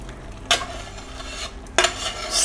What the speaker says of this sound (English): scraping down the pan, get it all in there